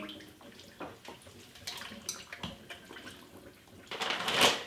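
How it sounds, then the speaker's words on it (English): Tap water runs and splashes unevenly as brine is rinsed off a turkey breast in a kitchen sink, faint and irregular, growing louder toward the end. "you're rinsing all the salt solution off of the turkey"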